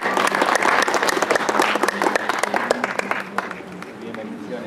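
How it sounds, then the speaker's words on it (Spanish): Congregation applause at a San Isidro fiesta in Ichupampa, a dense crowd of hands clapping loudly and continuously, easing slightly in the last second or two. "Un aplauso para ellos, hermanos."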